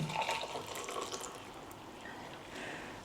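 Boiled water is poured with a soft, steady splashing trickle, quiet and close, lasting a few seconds with no talking.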